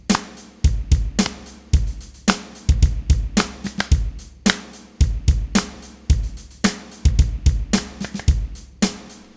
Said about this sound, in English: that's a very basic drum beat